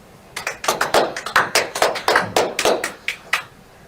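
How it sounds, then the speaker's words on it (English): A few people clap after a technical talk, giving distinct, close claps at an uneven rhythm for about three seconds before the sound stops. "We see some hands clapping up on the thing"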